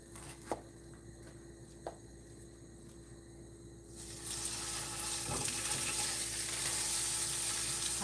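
Food frying in a pan starts suddenly midway, a loud steady broadband sizzle replacing quiet kitchen room tone with a couple of light taps beforehand; no talking.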